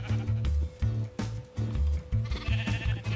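Blocky, repeated sheep bleats from the video game Minecraft, several overlapping calls in quick succession, loud and close, with faint background game sounds and no clear speech.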